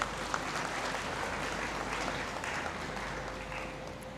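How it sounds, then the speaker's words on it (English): Applause fills a great hall at a university congregation ceremony for graduating students, a sustained, moderately faint spread of clapping lasting around four seconds with no clear speech on top. "I think the university deserves a great applause."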